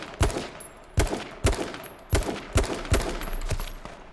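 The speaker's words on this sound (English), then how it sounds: "There's no way none of them shots are hitting him." Bursts of gunfire in the battle-royale game H1Z1, with about eight sharp, loud shots in uneven groups over a few seconds and no talk.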